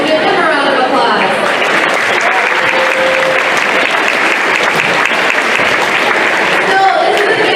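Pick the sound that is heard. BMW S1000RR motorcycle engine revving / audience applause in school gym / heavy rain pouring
audience applause in school gym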